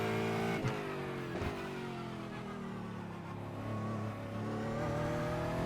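An Aston Martin GT4 race car engine in iRacing at Winton Raceway drones steadily at high revs, a sustained buzzing roar with brief dips as it shifts, close and continuous, no voices.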